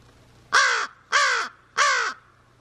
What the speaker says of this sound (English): It's so loud when he caws like that.